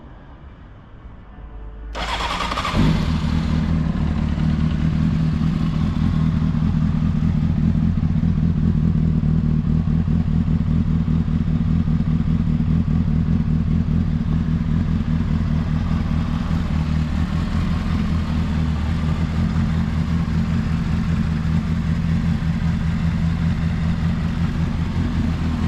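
A Honda motorcycle engine fires up about two seconds in, then settles into a steady, loud, close idle with a throbbing low rumble for the rest of the clip. No one talks.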